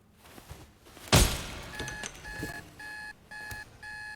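An alarm goes off in The Raven: Legacy of a Master Thief after a heavy thud, sounding as a repeating electronic beep in steady on-off bursts that are fairly loud and carry on alone.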